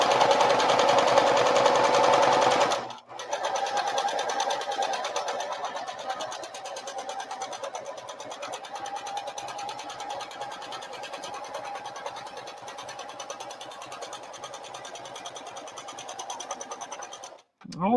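A sewing machine stitches fabric for a tote bag while the thread catches under the presser foot: a loud burst of running for about three seconds, then a steady, close, even whir that continues almost to the end.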